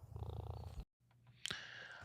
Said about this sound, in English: you could hear it purring